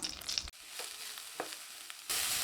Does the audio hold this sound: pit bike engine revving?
no